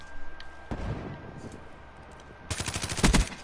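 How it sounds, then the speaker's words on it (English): Video game gunfire: one sharp shot early on, a quieter stretch, then a loud rapid burst of automatic fire near the end, clearly in front of a faint background. "I just shot another person"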